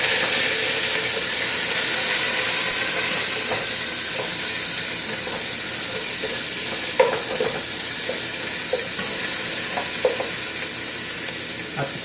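Ginger sizzles steadily in hot olive oil, a dense crackling hiss with scattered stirring clicks and scrapes as it is sautéed.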